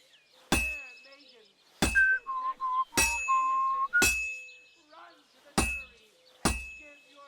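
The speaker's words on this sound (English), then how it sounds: "Now take the hammer and try hitting it a few times." A hammer strikes a sword on an anvil at a blacksmith's forge in Kingdom Come: Deliverance 2, six sharp ringing metallic clinks spaced about a second apart, with a short tonal sound between two of the strikes.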